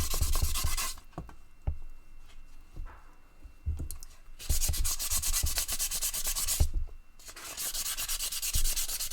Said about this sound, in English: But yeah, fine sandpaper,